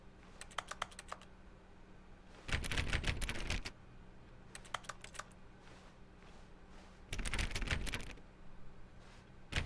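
Bursts of computer keyboard typing in The Stanley Parable's office setting: a few light isolated key clicks, then two dense flurries of rapid keystrokes separated by quieter tapping, close-miked, with no voices.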